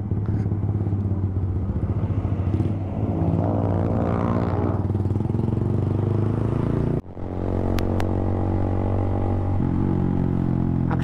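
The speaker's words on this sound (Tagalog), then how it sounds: "pag binitawan niyo yung throttle, muugong" A Suzuki Gixxer 155 fi with an Akrapovic full-system exhaust, run without its dB killer or silencer, rumbles loud and close off throttle in a walled concrete space. The deep, continuous drone breaks briefly before carrying on.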